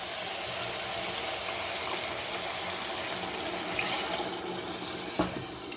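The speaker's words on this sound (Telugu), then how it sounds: "మనం చికెన్ మునిగేంత వరకు వాటర్ పోసుకోవాలి." Water pours steadily into a pot of frying chicken masala, a continuous close gushing splash that swells briefly near the end, followed by a sharp knock, with no talking.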